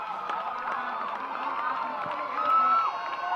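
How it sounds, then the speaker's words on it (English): Spectators cheer runners on at a university relay race, a continuous distant crowd roar with scattered shouts and whoops, swelling briefly louder near the end. "You can just hear the crowd getting behind the athletes here."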